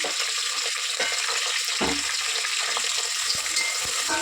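Sliced onions and green chilies fry in hot oil for vegetable bagara rice, a steady close sizzle with occasional stirring clatter from the pan and no talking.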